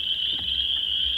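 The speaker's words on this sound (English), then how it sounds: "you can definitely hear all the frogs are chirping in there right now" Frogs chirp in a pond beside a rural home, a dense, continuous high trill that holds steady throughout, with no talking over it.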